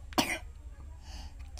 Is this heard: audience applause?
no